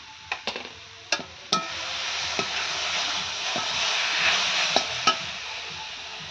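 Red chilli paste for chalta pickle fries on a stove with a steady close sizzle, broken by sharp scraping clicks of stirring in the pan.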